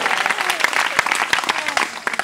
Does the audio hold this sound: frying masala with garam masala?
no